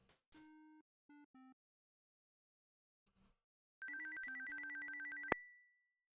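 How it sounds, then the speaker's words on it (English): Telephone ringing in the Police Quest 4 video game, with a few short electronic beeps first and then a longer burst of rapid, warbling ring tones that stops abruptly. "Ooh, somebody's calling me. Oh shit. Answer the damn phone, Junior."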